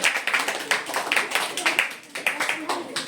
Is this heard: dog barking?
no